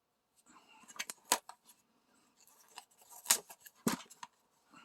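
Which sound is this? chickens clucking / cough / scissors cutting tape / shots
scissors cutting tape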